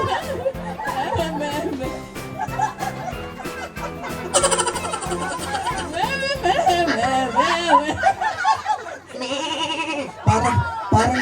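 A person mimics a goat's trembling, quavering bleat at a lively birthday celebration, wavering voiced cries mixed with chuckles and laughter and other voices close by.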